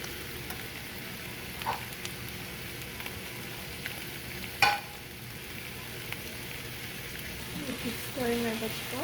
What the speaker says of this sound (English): Then we'll add our schnitzel to the pan.